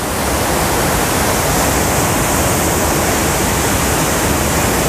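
Saidhara Waterfall in Odisha roars up close as a dense, steady rush of falling water that fills the whole clip loudly and without a break, with no voices over it.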